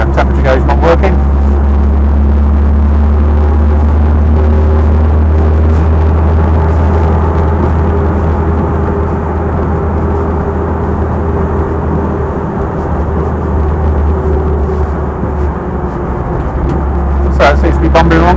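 Steady engine drone and road rumble from a Land Rover 90 2.5 hardtop driving along the road, loud and constant, with a voice speaking over it.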